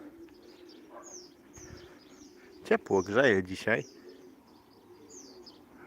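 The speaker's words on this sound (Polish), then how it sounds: "Jeśli tutaj widać gołębie słychać jak buczą." Pigeons coo faintly in the background outdoors, with soft chirps around them, while a person speaks briefly partway through.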